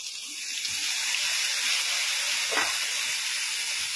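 Soaked paste of cumin, coriander and turmeric powder hits hot oil with fried green banana and potato, giving a loud steady sizzling hiss that swells early and holds throughout, with a brief splash midway.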